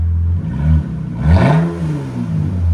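A RAM 3.6L V6 with straight pipe exhaust revs up loudly, the engine swelling to a raw peak mid-clip and settling back to a steady rumble, close and with no talking.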